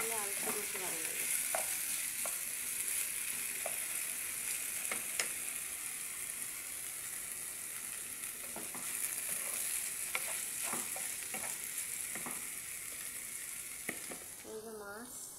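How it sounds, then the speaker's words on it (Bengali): Potatoes and onions frying in a pan for a small-fish and potato chorchori: a continuous bright sizzle with scattered clicks and scrapes of stirring throughout. "আলু, পেঁয়াজ, এগুলো একটু ভালো করে ভাজতে নিলাম।"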